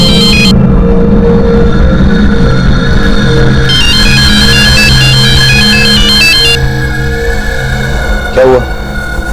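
A phone ringing in a dramatized crime scene, a loud repeating electronic ringtone pattern that starts and stops over dense background music and noise, with a brief voice near the end.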